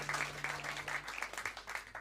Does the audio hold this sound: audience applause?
yes